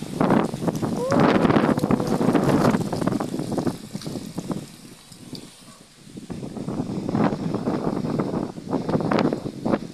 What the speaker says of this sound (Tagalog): Grabe hangin niya oh.